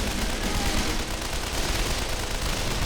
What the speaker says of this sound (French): là il y a toujours la mitrailleuse.